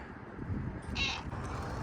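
A domestic cat gives a single short meow in a garage workshop, rising briefly over a steady background hum.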